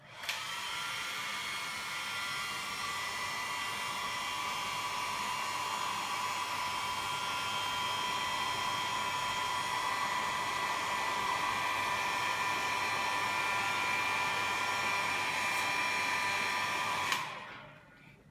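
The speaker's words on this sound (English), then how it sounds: "I'm going to turn the hairdryer on now so we won't be able to speak and we can just watch." A hairdryer blows air at shaped tubes, a steady close whirring hiss that runs unbroken for many seconds before switching off abruptly near the end, with no talking.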